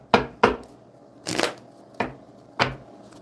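Tarot cards riffled in short bursts: five crisp shuffling rustles spaced across the moment, one longer and denser than the rest, close and clear with no talk.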